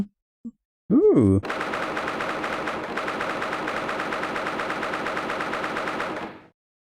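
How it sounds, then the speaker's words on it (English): A cannon fires in The Great Ace Attorney video game: a short rising tonal whoosh, then a long, loud, dense rumbling barrage lasting about five seconds before cutting off. "Why does he have a cannon?"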